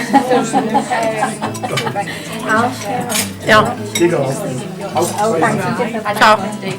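Chopped vegetables are tipped into a small pan, clattering with metallic clinks and scrapes of utensils, while people talk over the kitchen noise.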